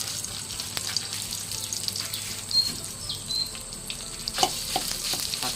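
Chili peppers frying in a pan give a steady, fairly quiet sizzle with soft stirring scrapes and a few brief louder crackles, with no voices.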